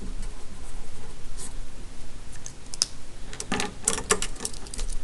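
Math steps are written by hand on paper, a continuous close scratching of the pen broken by brief sharp taps and strokes, with no talking.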